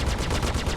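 Ship weapons firing in the space game Star Citizen, a loud, rapid, evenly spaced burst of about seven or eight shots, with no talking.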